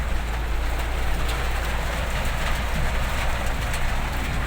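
Heavy rain roars in a dense steady wash over the low rumble of a car driving in third gear, constant and close.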